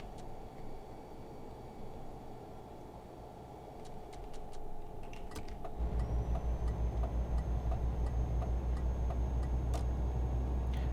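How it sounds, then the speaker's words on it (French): Rhythmic clicking of a truck's turn signal inside the cab in Euro Truck Simulator, ticking steadily over the low drone of the engine, which swells louder and heavier partway through as the truck accelerates. "J'adore le bruit des clignotants sur ces camions"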